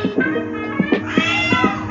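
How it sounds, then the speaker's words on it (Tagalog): Cats meowing and yowling in a scuffle, a series of short, close cries and squalls with a brief rising wail, with no voices over them. "Nag-aaway yung mga pusa dahil sa'yo."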